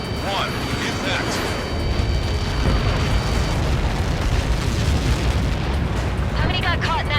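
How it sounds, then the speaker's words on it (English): A massive explosion in the Ace Combat 7 video game, a continuous loud roaring blast rumble that fills the whole stretch, with game radio voices heard over it. "How many got caught in that explosion?"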